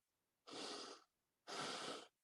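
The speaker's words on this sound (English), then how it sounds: "you inhale, you exhale, and this is known as breathing" A person breathes in and out in two slow, airy breaths of equal length separated by a short pause, close and clear with no talking.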